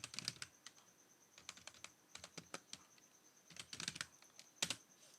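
Bursts of computer keyboard typing while entering capital letters into an Excel formula, quiet and close, with irregular clusters of keystrokes separated by short pauses.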